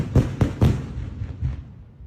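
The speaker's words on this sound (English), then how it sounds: "So this is the explosion. Happened in Toronto." A controlled explosion in Toronto played back from a recording: several sharp, booming bursts in quick succession with rumbling decay, loud and a little distant.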